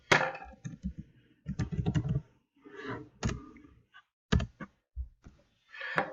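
Typing on a computer keyboard comes through as irregular bursts of clicky keystrokes with short pauses between clusters and sharp isolated taps, close up with no talking.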